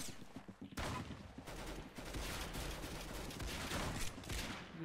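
Dense, continuous gunfire from the Roblox shooter Arsenal, with rapid overlapping shots forming a loud, sustained barrage after a brief quieter opening.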